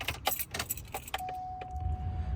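A key turns in the ignition of a 2008–2009 Hummer H2, switching it to accessory: several jangling clicks of keys, then a steady electronic tone chimes on and holds over a low cabin rumble.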